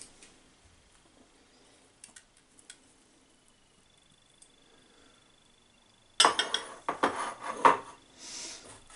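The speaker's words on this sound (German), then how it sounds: "Es wird alles klein geschnitten" A knife chops red and white onions and plenty of garlic for ajvar, a burst of close, rapid, uneven knocks on a board that begins after a long near-silent stretch.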